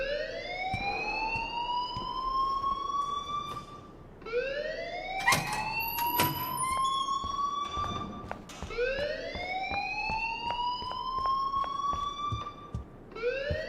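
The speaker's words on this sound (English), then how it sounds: "please turn off that alarm since that's your job." A rising and falling wailing alarm in the video game Life is Strange, sweeping upward in repeated loud cycles for over ten seconds, with brief clattering bursts partway through and no talk.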